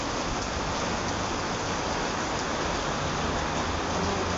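Steady rain hiss, dense and even throughout, a continuous wash of falling water during a storm, fairly loud and unbroken, with no voices heard.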